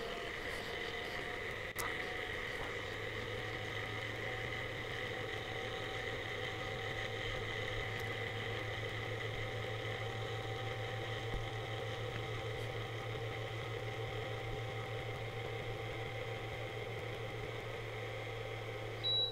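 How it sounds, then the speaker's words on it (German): A Tchibo milk frother whirs steadily while frothing low-fat milk, a continuous motor hum with a constant airy whine holding at even loudness throughout, without talk. "starte den Schäumvorgang mit einem kurzen Druck auf den Einschaltknopf"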